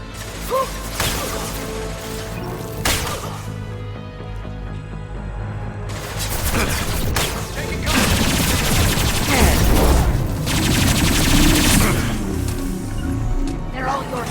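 A high-impact sniper shot is fired in the video game Mass Effect 2, heard as sharp bursts and mechanical clatter within dense, loud combat noise, with voices talking over the action.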